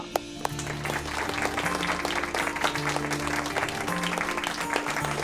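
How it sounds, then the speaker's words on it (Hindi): Applause from a group in a Turkish drama scene, honouring the day's second hero, a steady wash of clapping with a low musical hum and tonal bands running beneath it throughout. "आज के दूसरे हीरो के लिए तालियां"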